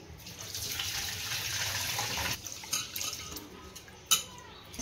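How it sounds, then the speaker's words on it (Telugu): Raw rice being washed by hand in a bowl of water for jeera rice, with swishing and trickling water, soft and close, plus a few sharper splashes and drips toward the end. "సో దాన్ని అయితే బాగా వాష్ చేసుకోవాలి ఒక 3 times లాగా."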